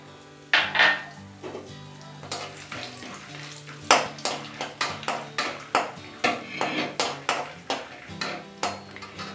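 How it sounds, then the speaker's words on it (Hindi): Raw almonds fried in oil in a pan over medium flame, with a steady background sizzle and repeated clinks and scrapes of a utensil against metal, in a fairly quick rhythm. "अब इसमें फ्राई करेंगे ये कच्चा बादाम"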